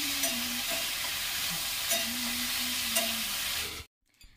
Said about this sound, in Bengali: আর এরপরে আমি ভালোটি করে কড়াটাতে ভালোটি করে নেড়ে দিচ্ছি, আলুগুলো দিয়ে চাপা দিয়ে দেবো